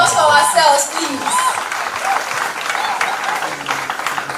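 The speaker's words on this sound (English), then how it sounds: "A round of applause for ourselves, please." Audience at a stakeholders meeting claps in a brief, fairly loud round of applause that fades to scattered clapping, with a voice speaking at the start.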